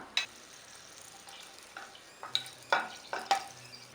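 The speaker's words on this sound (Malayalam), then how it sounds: "എണ്ണ ചൂടായി കഴിയുമ്പോഴത്തേക്കും നമുക്കിതിലേക്ക് ഒരു 3 ഏലക്ക, 3 ഗ്രാമ്പു, 1 പീസ് കറുവാപ്പട്ട ഇത്രയും ഇട്ട് കൊടുത്ത് ചെറുതായിട്ടൊന്ന് വഴറ്റിയെടുക്കാം" Three cardamom pods, three cloves and a piece of cinnamon sauté in hot oil for a kurma curry: a faint, quiet crackle with a few scattered clicks of a spoon stirring the pan.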